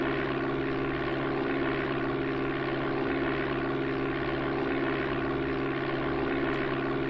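Propeller aircraft engine droning steadily in flight in the Amiga game Flight Simulator II, a continuous buzzing hum at a constant level that never varies, with no voices.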